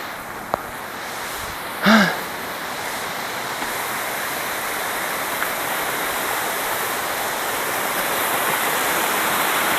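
Water pours down a waterfall along a forest path with a steady, loud, unbroken roar, while a brief voice-like call rises faintly above it early on.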